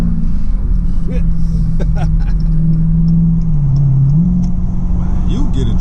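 A brand new Dodge Challenger T/A 392 with its exhaust rumbling loud and close, a steady deep drone that swells and dips as the engine revs, with people talking over it.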